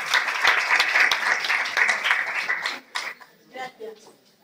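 Applause from an audience at a journalism congress, a dense steady clatter of many hands that thins out and trails off into a few scattered claps near the end.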